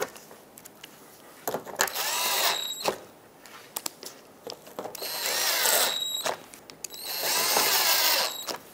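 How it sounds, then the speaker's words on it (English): A power drill drives screws into the bumper shield of a 2014-2021 Mazda 6, firing in three sustained whirring bursts with short pauses and clicks between them, close and loud. "Put in all the screws that hold this on."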